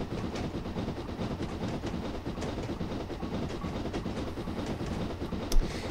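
A Black 5 steam locomotive in the Train Sim 2020 video game, running on a historic route in a continuous rumbling, clattering roll with rhythmic rail noise and a brief louder knock near the end, no talk.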